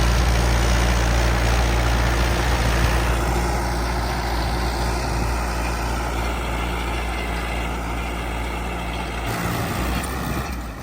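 An old Standard tractor's diesel engine runs steadily with a deep, continuous drone, close and loud, with no talking.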